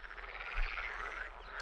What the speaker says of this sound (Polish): Żabki kumkają.